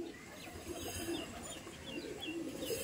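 A Madras pigeon coos in low, repeated throaty pulses at moderate distance. The cooing runs steadily through a quiet room with light background hiss and no talk.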